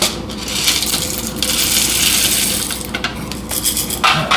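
Small Ethiopian coffee beans pour in a dense, close rattling rush, a continuous dry patter that thins briefly toward the end.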